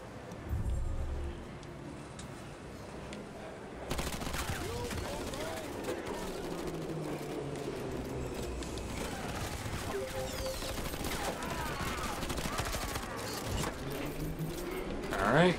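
Rapid gunfire from the Shaq Fu: A Legend Reborn video game, bursts of shots crackling steadily through the clip with busy game effects and a louder burst at the end.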